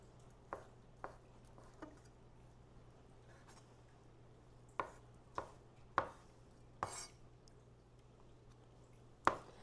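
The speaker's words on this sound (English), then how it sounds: "So I'll just go and get these cut up roughly into these sort of slivers" Knife chopping ingredients roughly into slivers on a board for an eggplant and shrimp dish, a few sharp, separate thuds spaced irregularly, close and fairly quiet over a low steady hum.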